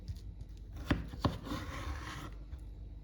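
A knife chops vegetables for a Greek salad on a board, with two sharp, distinct chops standing out above a steady background of rubbing and low room noise.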